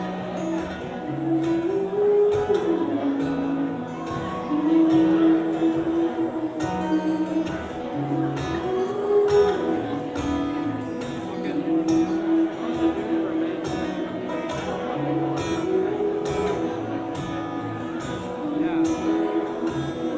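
A group of people sings together over a full, busy backing, with voices rising and falling in loose melodic phrases at a steady moderate level.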